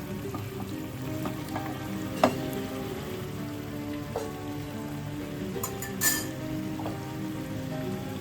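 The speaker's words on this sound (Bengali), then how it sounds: "এদিকে চিকেনটা কিন্তু ভালোভাবে ভাজা হয়ে গেছে।" Chicken for biryani fries in a pot with a soft, steady sizzle, broken by a few light clicks and scrapes from stirring.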